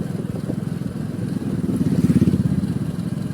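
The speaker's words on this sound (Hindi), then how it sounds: "अब मैं इसे रेस दूंगा ना, थोड़ी सी एक्सीलेटर बढ़ाऊंगा सीधे हाथ की तरफ से" Motorcycle engine revved with the throttle while the bike stands in gear with the clutch held, a close, steady mid-pitched throb that swells louder toward the middle before easing slightly.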